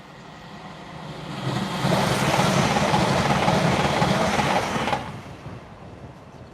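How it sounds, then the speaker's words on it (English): A TransPennine Express train rushes past nearby as a broad, loud roar that builds quickly, holds steady for a few seconds, then cuts away and fades. "And here comes the Transpennine."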